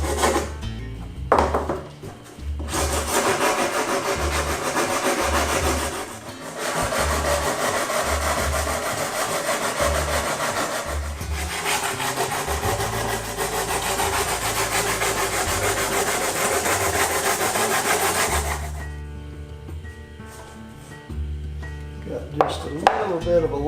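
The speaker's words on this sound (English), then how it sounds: "It doesn't take much of that on this Lexan. It sands real quick." The edge of a Lexan windshield cut down for a Kawasaki Versys 1000 is sanded, producing long, continuous, close abrasive rasping in several sustained passes with brief pauses, and quiet scraping toward the end.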